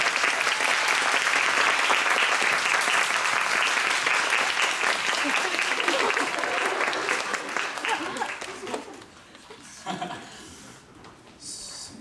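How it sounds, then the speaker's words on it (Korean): A theatre audience applauds loudly as actors, the director and a band musician come on stage after a play, a dense sustained ovation that fades after about nine seconds, leaving scattered claps and murmurs. "박수 부탁드리겠습니다."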